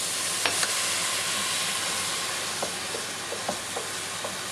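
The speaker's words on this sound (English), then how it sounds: "I add a glass of white wine to deglaze the bottom of the pan and to start that arborio rice steaming off." A pan of arborio rice for risotto hisses with a steady, broad sizzle after a glass of white wine goes in to deglaze, with a few light clinks and stirring taps throughout.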